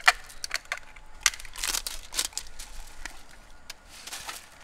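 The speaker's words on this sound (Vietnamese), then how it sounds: "đang bẻ cho nó phát sáng đấy các bạn" Glow sticks are snapped by hand, five or six at a time, to make them light up before being tossed into a pool, giving a run of sharp, close cracks and crunches at an uneven pace.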